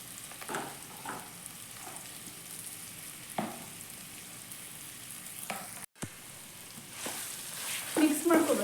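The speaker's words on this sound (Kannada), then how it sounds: "ಈಗ ಮ್ಯಾಶ್ ಮಾಡಿ ಇಟ್ಕೊಂಡಿರೋಂಥ ಆಲೂಗೆಡ್ಡೆ ಹಾಕೋತಾ ಇದ್ದೀನಿ." Mashed potatoes going into an oily pan for aloo bonda filling and being stirred, a soft steady sizzle with scattered scraping strokes and a few clunks, no talk.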